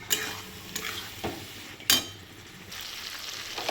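Spiced vegetables for a Bengali khichdi are being stir-fried in oil in a pan. The oil sizzles steadily throughout, and a utensil scrapes and clinks against the pan in a few sharp strokes.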